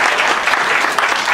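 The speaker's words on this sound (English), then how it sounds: "Everybody give Jane a round of applause." Audience applause at a magic show as a child helper is welcomed onstage, a steady, dense wash of clapping from a crowd lasting the whole moment.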